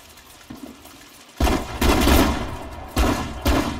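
Battle gunfire in the WWII strategy game Sudden Strike 4: a few loud bursts of shooting, one long rattling volley followed by two shorter ones, after a quiet start.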